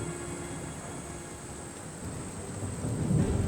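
A thunderstorm rolls in over the African savanna as the dry season ends, with a steady rumble of thunder and a wash of rain building slightly louder toward the end, fairly distant and continuous, with no voices.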